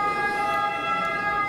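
An ambulance or police siren passes outside, a steady, fairly loud wailing tone heard through the room without any talking.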